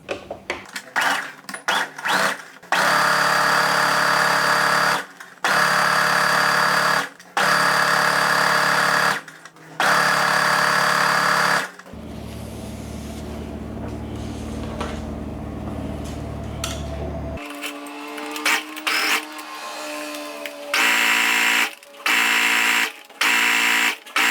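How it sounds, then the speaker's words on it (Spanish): A sewing machine stitches the handles of a cork tote bag in repeated loud whirring runs of a few seconds each, separated by short pauses and a quieter stretch of handling noise in the middle. "Vamos a pasar entonces una puntada justo por aquí, para cerrar las asas"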